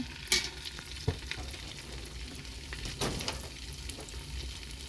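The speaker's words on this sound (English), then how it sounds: "So I'm going to put this in olive oil, and I'm just deep frying that." Food deep-frying in olive oil sizzles and crackles quietly, with occasional sharp pops and a utensil clinking now and then.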